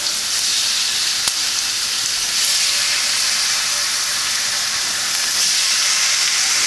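Thinly sliced steak for Philly cheesesteak sizzles steadily in a hot pan while being stirred, a loud continuous hiss with one brief click from a utensil.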